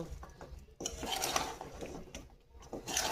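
Metal lid clattering onto a pot of bottle gourd cooking with fish head, a few sharp scraping clinks close by in a home kitchen, no voices.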